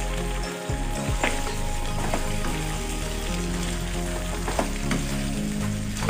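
Ox tripe and knuckles fry loudly in a pan for callos, a constant crackling sizzle with occasional scraping stir clicks, no talking.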